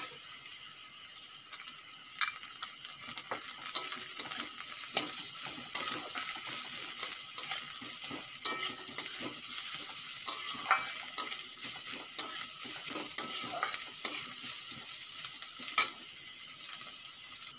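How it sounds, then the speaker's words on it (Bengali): Chopped onions frying in a pan alongside carrot, ginger, garlic and green chilli while being stirred, with a steady sizzle and repeated scraping and clinking of the spoon against the pan. "পেঁয়াজও হালকা করে ভেজে নিয়েছি"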